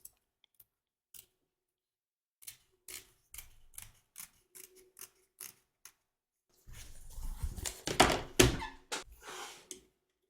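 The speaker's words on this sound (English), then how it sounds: "So turn your hoop over and cut away the fabric, taking care not to cut your stitches." Scissors snipping fabric away from the back of an embroidery hoop, a sequence of quiet, separate clicks and snips followed by a denser cluster of louder cutting and handling noises, close and without speech.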